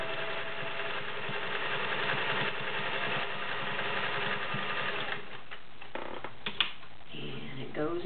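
A serviced Singer Slant-O-Matic 401A sewing machine motor hums steadily, then about five seconds in gives way to quieter mechanical clicks and stitching rattles, with a person talking over it.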